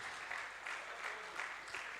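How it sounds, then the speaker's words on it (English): An audience at a Lagos architecture festival applauds for Mr. Lawson, steady dense clapping from a crowd in a hall, moderately loud and continuous throughout. "Can we give Mr. Lawson a round of applause, please?"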